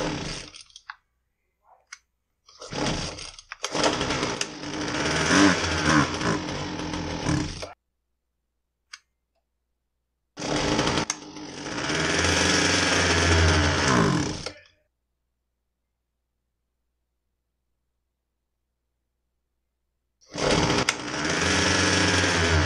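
A Husqvarna 122HD45 hedge trimmer's small two-stroke engine fires in three rough, loud bursts that sputter and bog before dying abruptly, each separated by several seconds of silence.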